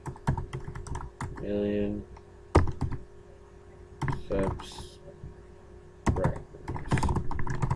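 Rapid bursts of clicking computer keys come in several short runs, with a person speaking briefly between and over the typing.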